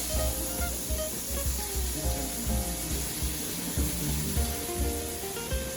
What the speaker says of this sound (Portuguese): agora a gente vai dar aqui uma fritadinha no nosso camarão